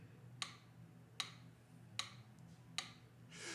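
A clock ticks four times at a steady, even pace, sharp clicks over a low background hum, ending with a soft rush of noise.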